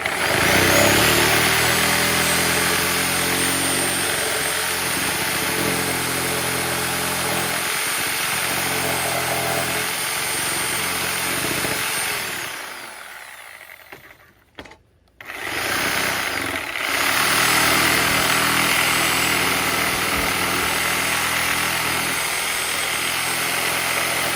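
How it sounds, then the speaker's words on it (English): A circular saw cuts through a wooden stair stringer with a loud, sustained roaring whine. It drops off briefly midway, then resumes at full volume, close up with no talk. "just take it in and finish the cut, because again, the circular saw can't go all the way to"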